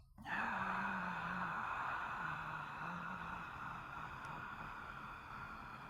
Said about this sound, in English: And then out with a ha sound to the count of 8